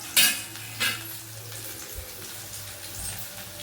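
Crushed garlic frying in hot oil in a pan gives a faint, steady sizzle, punctuated by two bright metallic scrapes near the start and a low knock partway through.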